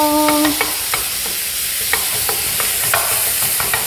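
Beef is stir-fried in a pan for a Korean cooking certification exam dish, with loud, close, rhythmic scrapes and taps of a spatula over a constant bright sizzle. A brief tonal beep sounds at the very start.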